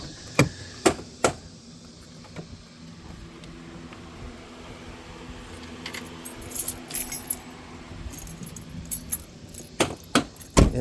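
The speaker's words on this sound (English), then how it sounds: "So let me get the keys so I can go in." A bunch of keys jangles and clinks in several sharp bursts, close to the microphone, with quieter rustling between the bursts and no speech.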